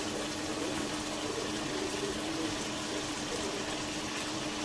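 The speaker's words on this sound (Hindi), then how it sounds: "अब हम इसमें 1 लीटर पानी ऐड करेंगे।" Roughly a liter of water pours from a jug into a cooking pot of tinday gosht with added spices, a steady, continuous gushing splash that holds level throughout with no talk over it.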